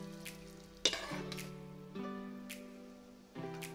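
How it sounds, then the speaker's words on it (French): Chicken pieces browning in a pan for stir-fried chicken noodles, a faint steady sizzle of frying with a few sharp clatters of utensils against the pan. "on va faire revenir ça tranquillement de chaque côté, que tout soit bien coloré"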